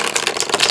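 Gilded-edge oracle cards from the Healers of the Earth deck being shuffled, a dense, continuous papery riffling and rattle with quick repeated flutters, close and fairly loud, with no talking.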